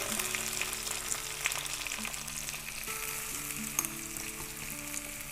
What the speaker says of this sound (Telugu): సో పోపు వేసుకుంటున్నాం అండి